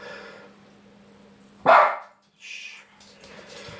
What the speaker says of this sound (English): These people don't want to hear you barking.